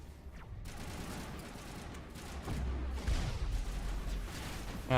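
Gunfire in the Mass Effect video game, with shotgun and pistol in the mix, sounds as a dense, continuous firefight of muffled shots and blasts that grows louder partway through, with no talking.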